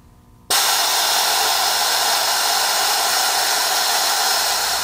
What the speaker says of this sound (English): We'll go ahead and hit our venturi again